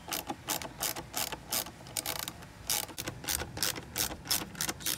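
A ratchet tool undoes the airbox screws on a Ford Focus ST, producing quick rhythmic bursts of clicking that repeat close up with short pauses between strokes.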